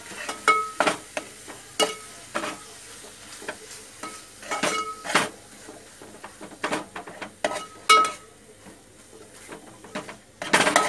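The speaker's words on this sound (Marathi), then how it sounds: "आणि आता मी त्याच्यावर टाकणार आहे ते वाटप कांदा खोबऱ्याचं, जे मी तुम्हाला सांगितलं ते चांगलं परतून घ्यायचं" An onion-coconut paste sautéing in oil for a Maharashtrian vegetable dish crackles and sizzles softly while a spoon scrapes and stirs it in irregular, close bursts.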